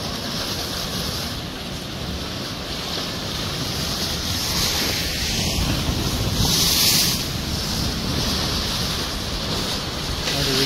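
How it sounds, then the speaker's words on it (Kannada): Sea waves washing onto a shore in Tanzania, a steady broad surf roar with gusting wind buffeting the microphone throughout, swelling slightly near the middle. "ನೋಡಿ, ಇಲ್ಲೀಗ ನಾನೀಗ ಸಮುದ್ರ ಸೈಡಲ್ಲಿದ್ದೇನೆ."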